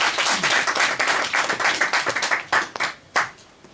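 An audience claps at a keynote talk on rural development, brisk and fairly close at first, then thinning into scattered, separate claps that fade out toward the end.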